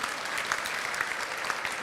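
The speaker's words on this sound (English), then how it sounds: "Okay, round of applause for our seniors." An audience claps for seniors at a kids' programme, giving a dense, steady wash of applause throughout, moderately loud and sustained without pauses.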